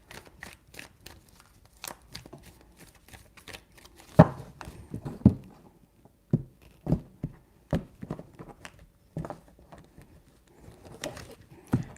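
Tarot cards being shuffled three times, close and fairly quiet, with bursts of sharp papery flicks and slaps separated by short pauses.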